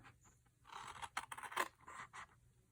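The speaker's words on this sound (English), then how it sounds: "I'm just using bigger scissors to make it faster." Several quiet scraping, snipping strokes of scissors cutting card, irregular and close, with no talking.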